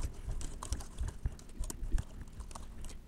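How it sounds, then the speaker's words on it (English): Soft rapid typing on a computer keyboard, a quiet patter of irregular key clicks close by, with no voices. "So let's just type that in now."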